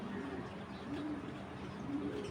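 A female pigeon coos quietly and repeatedly, low soft murmurs spread across a couple of seconds over faint background noise.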